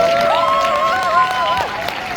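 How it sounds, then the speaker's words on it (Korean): An audience at a year-end leaders' meeting applauds with a steady wash of clapping, while a voice with a sliding, sustained tone runs over it. "박수 치세요"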